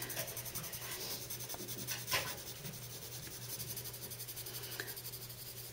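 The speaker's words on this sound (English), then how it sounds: "I'm pressing really hard with the pencil to get a range of darker tones" A pencil pressed hard against paper scratches in continuous rasping strokes, close and fairly quiet, with slight shifts in rhythm as the marks change direction, over a faint low background hum and no talking.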